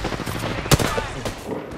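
A brief burst of gunfire in the battle royale game Apex Legends, one sharp loud shot with a few fainter follow-up cracks, heard over game ambience.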